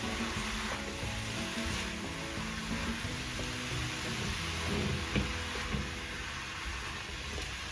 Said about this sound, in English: So now I'm just going to add in the pineapples. Stir that through.